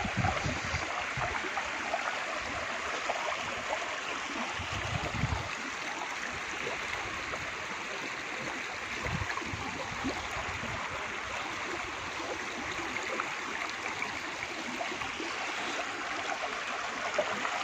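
Water cascades down a small waterfall at the Kalyan Kedareshwar Mahadev temple in Sailana, Ratlam, giving a constant close rushing roar with faint low thumps scattered through it and no speech.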